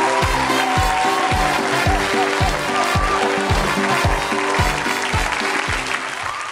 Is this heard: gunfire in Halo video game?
no